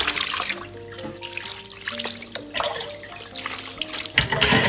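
Water trickles and splashes steadily as soaked raw chicken pieces are poured out to drain, with a clatter of pieces shifting in the container and a louder splash near the end.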